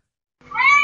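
A cat meows once, close and fairly loud, a single drawn-out cry that begins after a short silence and carries on to the end.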